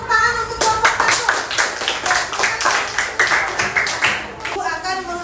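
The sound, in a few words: classroom clapping for a student group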